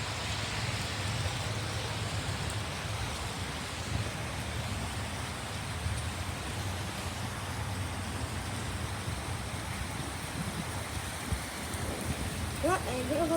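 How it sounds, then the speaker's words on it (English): Heavy, freezing rain falls steadily outdoors near a balcony, a dense continuous hiss with no talk over it. "it's freezing and raining a ton"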